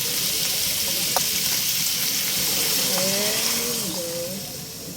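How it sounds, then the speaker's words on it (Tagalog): A steady sizzling hiss from a hot pot as coconut milk is poured in for a Filipino vegetable stew, with faint bubbling and gurgling tones rising near the end. "Lagyan na natin yung gata."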